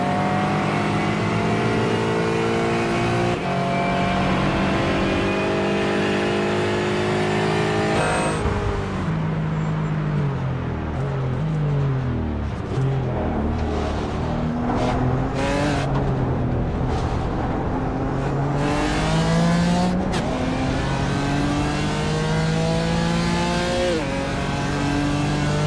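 Aston Martin GT4 race car engines in the iRacing sim rev loudly and continuously, pitch climbing and dropping through gear changes with brief tire squeal, several cars battling at the Nürburgring 24 Hour.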